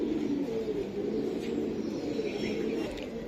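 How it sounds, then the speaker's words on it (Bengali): A young pigeon coos in a continuous low, throaty burble, close and steady for a few seconds with faint background chatter of other birds. "পরের বাচ্চা কবুতর দেখেন কত বড়"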